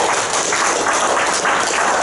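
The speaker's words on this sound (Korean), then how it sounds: "우리 서로를 위해서 크게 한번 박수 한번 칠까요?" Audience at a peace lecture applauding together, a steady wash of clapping from many hands with no pauses, filling the room evenly throughout.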